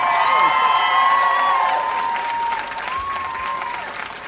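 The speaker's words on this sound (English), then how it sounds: "I was just telling them to give you a round of applause" A concert crowd at a live show applauds loudly with scattered cheers, the clapping sustained throughout.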